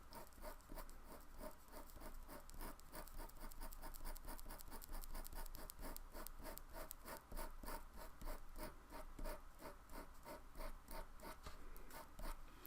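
A slice tool drags softly across paper, pushing pigment in quick, even strokes; faint, close scratchy patter repeating steadily with no voices.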